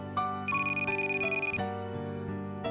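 In the visual novel White Album 2 Coda, a phone rings with a bright, repeating electronic trill, clear over soft background music, then stops and the music carries on.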